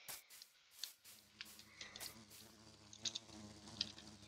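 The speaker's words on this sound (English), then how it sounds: "Oh, some bees." Bees buzzing in the Minecraft video game, faint intermittent droning hums with small pops and clicks of game sounds, no talking.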